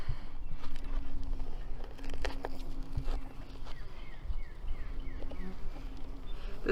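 Honey bees buzz close by as they fly out of a beehive, many young bees leaving for the first time, a dense continuous drone with passing individual whines and occasional faint knocks.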